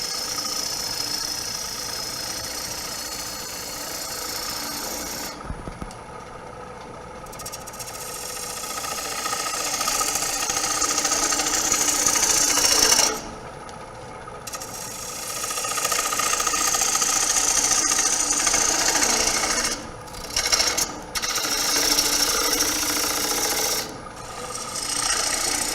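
A wood lathe spins while a turning tool cuts into the wood, giving a continuous loud scraping rasp over the motor's steady hum, with a few brief breaks where the cut pauses.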